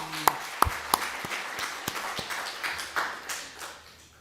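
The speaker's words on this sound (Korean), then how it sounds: "우리 수고하신 찬양대 위해서 다시 한번 박수 한번 해드리죠" A church congregation claps for its choir during a Sunday service, starting with a few sharp, separate claps that thin into softer, scattered clapping heard at a modest distance.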